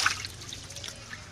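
Water pouring and trickling off herbs being washed in a vessel, a soft steady dribble with a few splashy drips, close by and with no talk.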